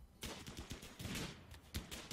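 Gunfire in the colony-building video game RimWorld, a fairly quiet rattle of rapid overlapping shots in bursts, without talk.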